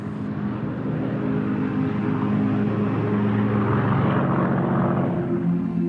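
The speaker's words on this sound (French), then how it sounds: "Le Spitfire était un appareil fantastique à piloter" Propeller engine of a Supermarine Spitfire, a steady loud droning roar with layered low harmonic tones that holds constant throughout, swelling slightly near the end with no voices.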